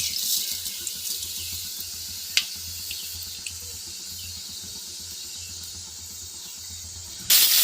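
Nigella seeds sizzle in hot mustard oil in a pan, a steady close hiss with faint crackles throughout, swelling into a louder burst of frying at the very end.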